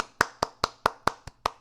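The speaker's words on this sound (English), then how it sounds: "Clap louder." Hands clapping at a 2006 Nintendo E3 press conference, seven or eight sharp, evenly spaced claps in a quick steady rhythm, fairly faint and with no voices.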